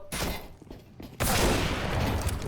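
Gunfire in the tactical shooter CS:GO, with a quieter stretch of scattered noise, then a sudden loud burst of shooting that keeps up to the end.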